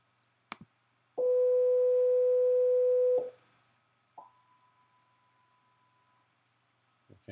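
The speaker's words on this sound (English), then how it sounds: "you probably heard a loud tone that made it through the filter without too much distortion" A loud, steady electronic sine tone holds for about two seconds, then after a pause a much softer, thinner filtered sine tone sustains for two more seconds.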